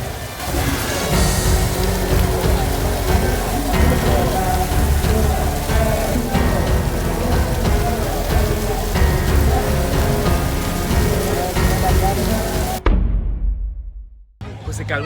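A loud, continuous downpour drums on surfaces and a tent canopy at a Grito night celebration in Puerto Vallarta, with scattered crowd voices underneath, before the sound cuts abruptly near the end.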